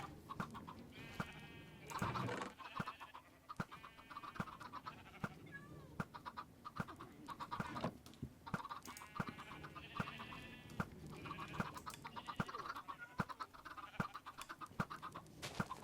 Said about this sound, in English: Is this enough chickens?